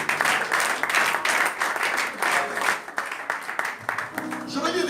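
Church congregation applauding during a French-language sermon, a dense, steady wash of clapping that swells and dips across the whole stretch, with voices mixed into the noise.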